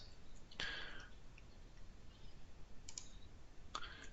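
A computer mouse clicks a few times against a quiet room background, with short isolated clicks spaced out rather than in a rapid run.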